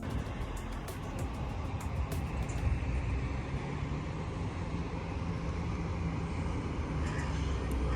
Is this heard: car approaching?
yes